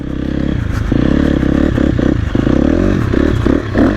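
A KTM 250 motorcycle rides and drifts in snow, its engine loud and close with a steady buzzing drone, revving and wavering as the throttle changes, with clattering mechanical noise throughout.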